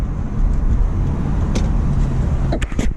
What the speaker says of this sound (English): So I'm in second gear. We're gonna do a little pull with the windows down.